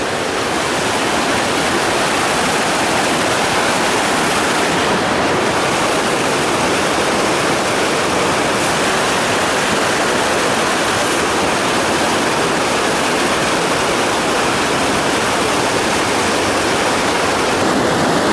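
Rushing water near a waterfall roars as a constant, dense, loud wash that stays steady from start to finish, with no voices.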